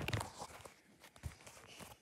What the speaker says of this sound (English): so it's hearing footsteps running